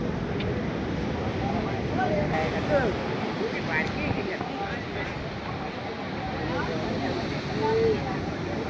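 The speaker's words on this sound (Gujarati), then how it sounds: "દરિયો કેવો તોફાને ચડ્યો છો." Rough, stormy sea near Dwarka surges around a boat as waves churn and wind buffets the microphone in a continuous, roaring rush with no clear pauses.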